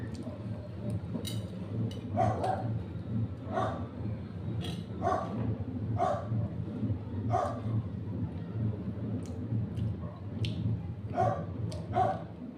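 A dog barks repeatedly in short bursts spaced a second or so apart over a low background hum, with a few faint yips mixed in.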